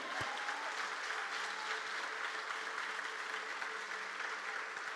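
A church congregation applauds in a steady, dense wash of clapping, moderately distant and uniform throughout, with no voices standing out.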